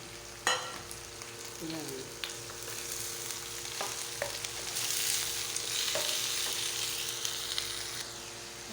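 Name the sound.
crab added to pot with squash and stirred while cooking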